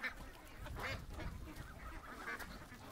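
Ducks quack inside a barn, several nasal calls rising in short bursts over a low rumbling background, fairly faint and close together.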